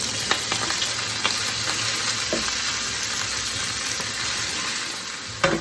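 Spinach dropped into a hot pan sets off a loud, continuous sizzle and crackle at close range. A few light utensil taps come through, and a sharper clatter sounds just before the end. No one speaks.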